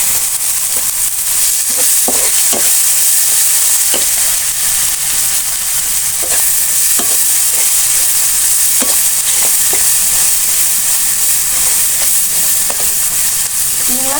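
Shrimp with salt and turmeric frying in a pan, a loud steady sizzle throughout with intermittent scraping stirs and clinks of a utensil.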